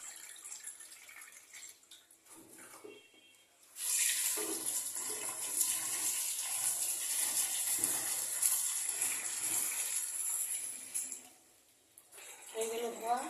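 Chilies are rinsed under running water, a loud continuous gush from a tap that starts abruptly, holds for several seconds, then stops, with a voice talking before and after.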